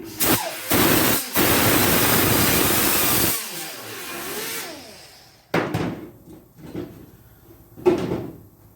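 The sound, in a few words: sanding a windshield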